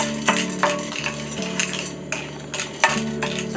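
Metal utensils clatter and scrape against a pan while ingredients are stir-fried on a stovetop burner in a Buddhist shojin ryori kitchen: a series of sharp, close clinks over a low steady hum.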